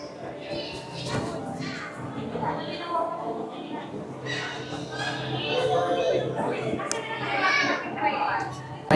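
Children play and chatter in a ball pit at a museum play area in a Manila Bay shopping mall, a busy indoor mix of high excited voices and shouts, with an adult speaking over it.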